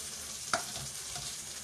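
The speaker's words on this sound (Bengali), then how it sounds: "এই ভেন্ডিটা ভাজছি, এটা ভেন্ডি ভাজা" Okra (bhindi) fries in a pan with a soft, steady sizzle. A single faint clink or scrape of a utensil comes early, and no voices are heard.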